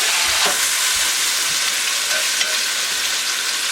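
Pork roast for carnitas sears with garlic and oregano in a hot pan, giving a loud, steady sizzle and crackle throughout, close up, with no talking.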